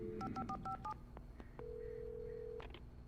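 A short run of telephone keypad tones beeps rapidly in the video game Alan Wake Remastered, followed by a steady electronic tone and a couple of brief clicks.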